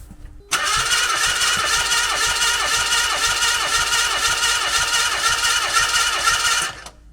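A Mazda MX-5 with a misfire cranks on its starter for about six seconds in a loud, steady whirring drone with rhythmic compression pulses, then stops abruptly.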